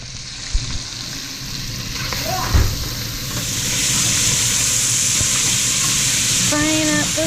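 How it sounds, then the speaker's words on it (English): Sausage pieces fry in a hot pan with a steady, loud sizzle and hiss that builds and holds, with a few clatters of stirring and brief voices nearby. "Frying up the sausage pieces."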